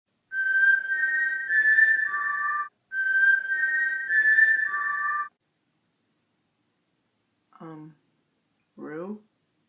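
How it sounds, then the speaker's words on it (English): A person whistles two identical melodic phrases, clear and close, each a few seconds long, followed by silence and two short voiced bursts. "I whistled at you"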